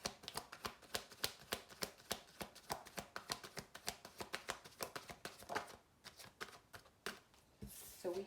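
A deck of Heal Yourself healing oracle cards shuffled close by, a rapid run of crisp, regular card slaps and riffles that slows and thins near the end.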